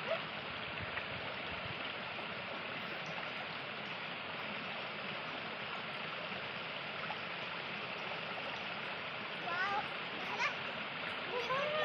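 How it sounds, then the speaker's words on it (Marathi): Water rushing at a waterfall and stream, a steady broadband roar that runs throughout, close and fairly loud, with faint sounds of people nearby. "फायनली आम्ही धबधब्यापाशी पोहोचलोय."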